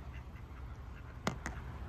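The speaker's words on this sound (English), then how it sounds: "look at the ducks trying to pull up on us" Ducks quack at Knott's Berry Farm amusement park while paddling close by, two loud, close, quick quacks over steady outdoor background noise.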